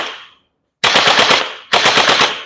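A JM Gen8 M4 gel blaster firing two loud, close full-auto bursts of rapid mechanical rattling shots separated by short pauses, with no talk.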